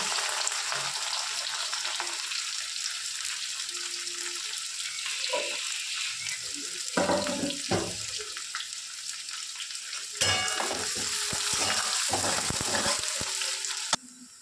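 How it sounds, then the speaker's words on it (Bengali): Chopped onion goes into hot oil with fried garlic, cinnamon, cardamom and cloves, giving a steady close sizzle broken by the scrape and clatter of stirring, with no talking. "রসুনটা ভালো করে ভাজা হয়ে গেছে, পেঁয়াজ কুচিটা দিয়ে দেবো।"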